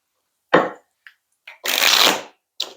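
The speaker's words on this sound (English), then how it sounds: "We'll do 2 more shuffles." Tarot cards being shuffled by hand during a reading, a short riffle, a few soft taps, then a longer loud burst of shuffling and a final brief flick, close and clear with no talk.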